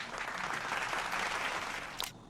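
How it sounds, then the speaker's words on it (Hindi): An audience at a health talk on diabetes claps in a dense, steady burst of applause that fades slightly at the close. "जोरदार तालियां आपके लिए।"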